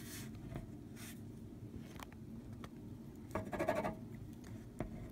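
A pen scratches out a short note on a paper scene sketch for a haunted attraction, quiet strokes with a slightly louder patch of writing near the end.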